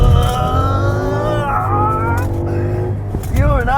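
A Ford Mustang drifts with a loud, close engine roar and rising, falling revs throughout, while people talk excitedly over it.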